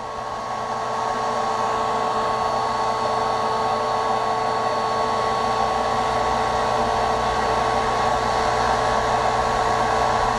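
A duct fan pressurizes the outer box of a double-box tornado vortex machine, giving a loud, steady whooshing whir with a constant hum that holds unchanged and close throughout, with no voices.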